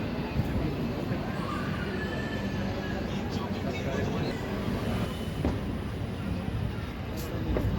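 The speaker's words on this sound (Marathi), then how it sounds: "5:43 कुरुडवाडी रेल्वे स्टेशनवरून आपली ट्रेन निघालेली आहे." An express train on the Harangul to Pune line running just after departing Kurduwadi station: a continuous low rumble and rolling rail noise at steady volume, with no clear breaks.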